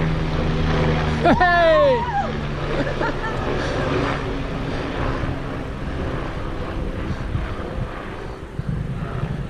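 A red and yellow rescue helicopter flies overhead as a low, continuous engine and rotor rumble spreads under the whole stretch, while a person shouts excitedly near the start.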